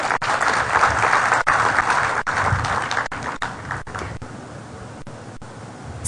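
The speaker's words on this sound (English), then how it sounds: "A round of applause for him." Seminar audience applauds, a dense burst of clapping that starts strong and gradually thins and fades over several seconds, heard close with no talk over it.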